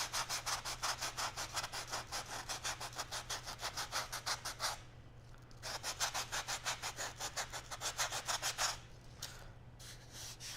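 Tape-masked wood is sanded along a curved edge with rapid, even back-and-forth strokes. A short pause breaks the rhythm, then the steady rasping resumes, close and fairly quiet.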